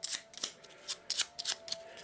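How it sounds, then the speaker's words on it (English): A deck of spell cards for a Mansions of Madness board game is given a quick shuffle, with a series of crisp riffling bursts and flicks up close, heard alone. "So we'll give them a quick shuffle"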